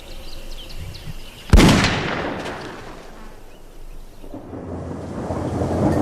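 A thunderstorm breaks a long drought: one sharp, loud thunderclap bursts out, then rolls into a long rumble. Steady rain keeps falling underneath and grows heavier toward the end.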